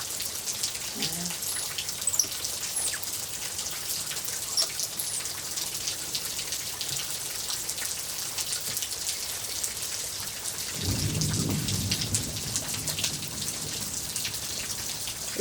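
Steady rain falling and pattering on surfaces close by during a stormy morning, a dense continuous hiss, with a low rumble of thunder swelling near the end.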